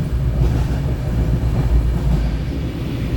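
The Kochuveli Mumbai Express runs heavily along the track as it enters the Karwar tunnel, a loud continuous low rumble and roar heard from inside the train with faint rhythmic wheel clatter.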